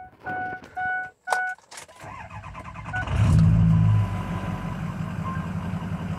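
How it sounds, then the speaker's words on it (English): A 2003 Ford Excursion with a 6.0 diesel and straight-pipe exhaust cranks and fires after a few warning chimes, roars loudly for a moment, then settles into a steady, rumbling idle nearby. "It does have a straight pipe on the exhaust, so it's a little louder than factory."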